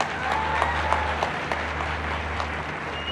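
An audience applauds at a government laptop scholarship ceremony, a steady wash of clapping over a low background hum, continuous and fairly loud for a few seconds.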